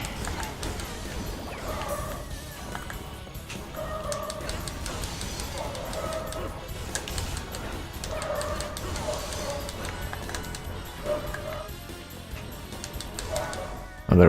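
Dogs in the video game Castlevania: Curse of Darkness bark in repeated bursts across the whole stretch, mixed into a dense, continuous bed of in-game music and effects.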